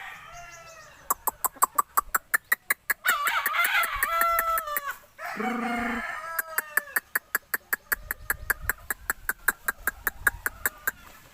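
A gamefowl cross rooster with a straight comb crows loudly and close by, with repeated clucks and rhythmic sharp beats around the calls.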